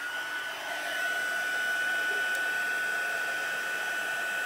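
A heat gun blows with a steady, close whooshing hum while drying watercolour ink on a stamped greeting card, running continuously with no voices.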